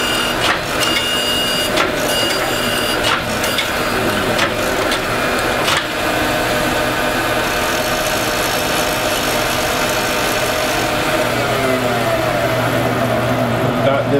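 A steel knife blank is ground flat on a powered grinder in a knife workshop, a steady loud continuous grinding roar with occasional sharper knocks early on, running throughout without talk.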